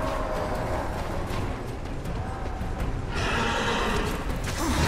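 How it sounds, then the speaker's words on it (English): In the video game Darksiders, a horse whinnies and attacks amid continuous game noise, with a brief neigh early on and a louder burst of rustling action about two-thirds through. "Oh, his horse is attacking me!"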